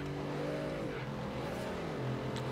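A luxury car engine revs in Forza Horizon 3, climbing and then dropping in pitch in a quick sweep, followed by a lower steady drone under faint tire noise.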